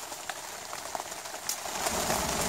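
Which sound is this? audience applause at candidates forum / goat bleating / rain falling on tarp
rain falling on tarp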